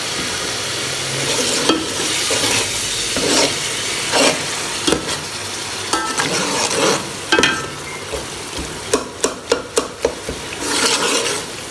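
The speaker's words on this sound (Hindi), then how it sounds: "मसाले को हम अच्छे से भून लेते हैं।" Whole spices for kabab masala, cumin, dry coriander, black cardamom and cinnamon, roast in a pan with a steady close sizzle, broken by repeated scraping and stirring strokes and a quick run of sharp spoon taps near the end.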